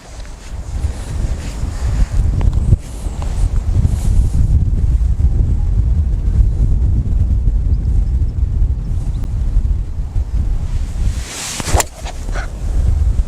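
Strong wind on a golf course buffets the microphone in gusty, roaring bursts for the whole stretch, with a few sharp knocks and no talking.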